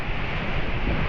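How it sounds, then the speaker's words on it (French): Strong wind of about 22 knots sweeps across the open sea aboard a racing sailboat, a steady roaring rush that buffets the microphone throughout, with the low wash of waves beneath. "C'est un peu molli là le vent, mais il y a 22 nœuds à peu près."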